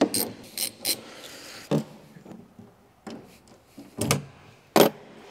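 Ratchet spinning in short separated bursts while unwinding bolts on a Caterham steering column, close by with quiet gaps between each run of clicks.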